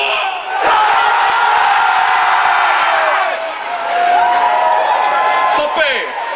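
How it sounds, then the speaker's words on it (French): Large festival concert crowd in Montreal shouting a word together at full volume, a loud sustained roar of many voices with a swell, a brief dip and a second surge. "Vous gueulez comme des hosties de malades le mot tabarnak"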